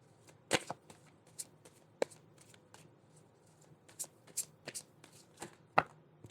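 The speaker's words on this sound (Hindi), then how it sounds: "सोच लीजिए जब तक मैं शफल कर रही हूँ कार्ड।" Tarot cards being shuffled by hand nearby, quiet riffling and sharp slapping taps scattered irregularly, with a few louder flicks standing out against a faint room background.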